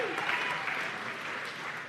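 Crowd applause with cheering, a dense continuous wash of clapping heard at a moderate distance with voices mixed in.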